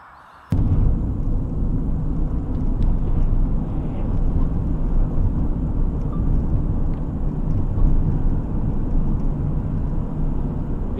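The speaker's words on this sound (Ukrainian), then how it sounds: "Бусик поїхав." A minibus van pulls away on a snowy Alpine road in France, its engine a loud, steady broadband rumble that starts abruptly and holds close and constant throughout.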